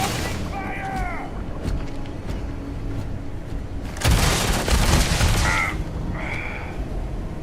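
Gunfire from a sci-fi space game, a burst of shots and booms mixed with game effects and chirps, loud and close under a noisy background.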